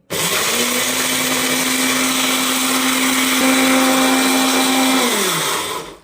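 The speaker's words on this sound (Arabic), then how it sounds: "في الكبه بتاعه الخلاط، وهبدا اضرب التوابل كلها مع بعضها" A blender grinding spices runs loudly and steadily for several seconds, its motor whirring and grinding close by, then winds down at the end.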